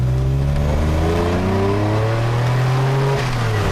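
A DeLorean with a V6 engine accelerates, its engine note rising steadily from inside the car with a continuous droning hum and road noise, moderately loud and without talk.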